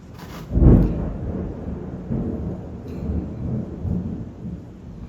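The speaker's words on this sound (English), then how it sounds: "The thunderstorm is moving in a lot tighter" A thunderstorm closes in with a deep, loud thunder rumble near the start, then a continuous low rolling growl and steady storm noise with no talking.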